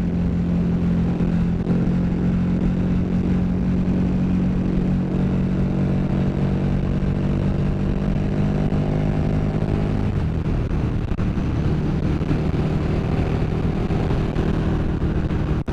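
A KTM Super Duke R motorcycle is ridden, its engine a steady, loud, continuous drone throughout, with a slight shift in pitch partway through as the ride continues.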